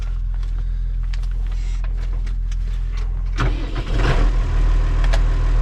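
After servicing, an engine idles steadily without being revved, a close, even rumble that grows slightly louder and rougher partway through, with a few faint mechanical clicks.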